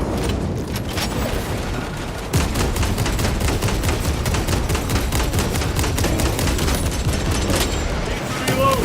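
Grenade blast and sustained gunfire in the Warhammer 40,000 video game Space Marine 2, a dense continuous barrage of rapid shots with a heavy boom partway through, loud and close, mixed with game voices.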